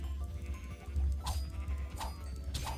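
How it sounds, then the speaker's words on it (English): Sheep bleating in the RLCraft Dregora video game, three short bleats spaced roughly evenly apart over a steady low rumble of game ambience, fairly close and clear with no talking. "They're just some sheep."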